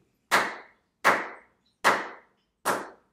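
Four slow, separate hand claps from one person, close and crisp with a short decay, spaced under a second apart in an otherwise quiet room.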